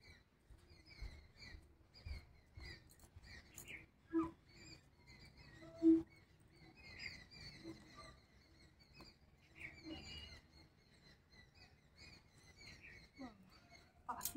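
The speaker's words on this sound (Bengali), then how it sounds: "পাখিগুলো এত কিচিরমিচির করে যাচ্ছে" Small birds chirp and tweet in scattered short bursts around a home, faint and somewhat distant, mixed with soft rustling and a couple of sharp clicks.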